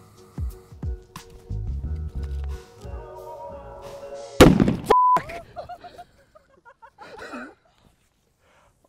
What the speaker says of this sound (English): that exploded right now